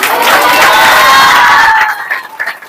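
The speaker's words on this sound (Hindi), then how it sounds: "ताली बजा के धन्यवाद करो ना।" A congregation at a healing-themed church gathering claps its hands amid loud cheering and shouting voices for about two seconds, then the noise drops away.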